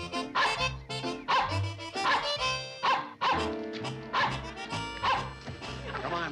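A dog barks and yips repeatedly in a rapid, excited string of close, loud barks with a few whimpering tones, continuing throughout in an old television sitcom scene.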